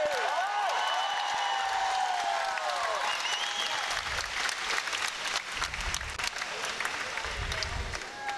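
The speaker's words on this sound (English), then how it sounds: "Team Vanuatu with the loudest cheer for the night" A large crowd applauds and cheers for Team Vanuatu at the men's 400 freestyle relay final at the Pacific Games swimming, a continuous roar with a commentator talking over it.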